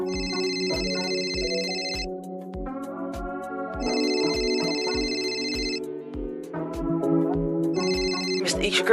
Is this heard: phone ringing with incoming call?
yes